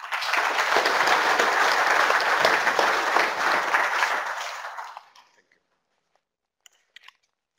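An audience at a scientific conference on genomics and food security applauds steadily for about five seconds, dense and fairly loud, then fades out into silence with a couple of faint clicks after.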